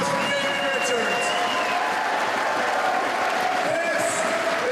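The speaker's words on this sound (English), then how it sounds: "Let's hear a round of applause for Davey Richards." A crowd at a 2009 DGUSA independent pro wrestling event applauds and cheers for Davey Richards after his match against Shingo Takagi, steady clapping and scattered whoops under nearby commentary talk.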